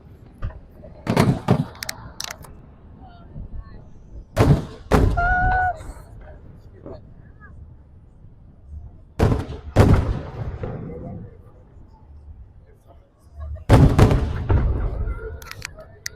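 Large 4th of July fireworks burst across the sky at a big Ohio celebration, heavy booms spaced several seconds apart with crackling tails, while people nearby talk over them.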